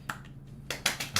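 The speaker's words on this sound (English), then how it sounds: "we're just clapping in general" A few people clap during a livestream event, giving a handful of sharp, separate claps in an uneven rhythm, close and fairly quiet.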